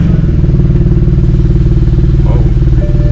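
A BMW runs right after new VRSF downpipes were fitted, giving a loud, close, rough idle with a steady pulsing clatter and no clean start. A brief voice is heard near the end.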